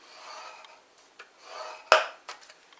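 Small ball scoring tool drawn across card stock for a wedge panel card, a few soft rasping strokes with one sharper scrape near the end, close and quiet with no talk.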